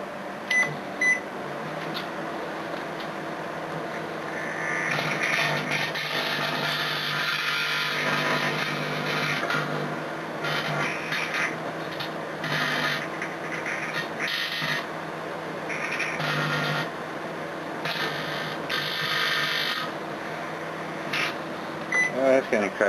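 A microwave oven runs with a blown halogen H4 car headlight bulb inside, a steady hum with intermittent crackling and buzzing bursts while people talk over it.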